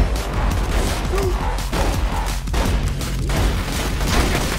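Dense, continuous gunfire from the video game Borderlands 2, loud and close, with rapid shots and booms blurring into a steady roar over several seconds.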